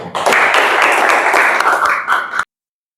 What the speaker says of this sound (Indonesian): Ya, tepuk tangan untuk kita semua.